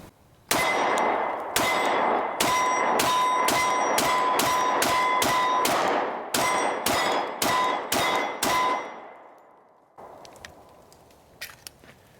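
A Glock 20 Gen 5 10mm pistol fires a rapid string of about eighteen sharp, loud shots at a range, each crack ringing briefly with metallic echo, followed by a few fainter clanks after the firing stops.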